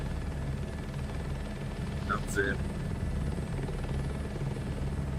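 A helicopter in the Microsoft Flight Simulator 2024 game, flying a crop-dusting field job, gives a steady, even rotor and engine drone throughout while a person talks briefly over it.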